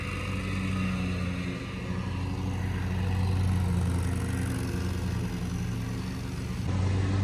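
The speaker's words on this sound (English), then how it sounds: "so they're doing some lawn work." Lawn work machinery at a resort's grounds early in the morning gives off a continuous, steady engine drone with a low hum, constant in loudness throughout, with no talk.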